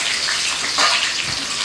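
Onion pieces dropped into about 250 ml of hot cooking oil for a meat rice dish, giving a steady, close sizzle with a brief surge partway through.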